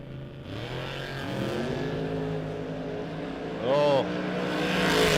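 Drag race cars, among them a yellow Camaro, rev and accelerate at a drag strip, their engine pitch sweeping upward in repeated surges, with a louder nearby revving burst late on.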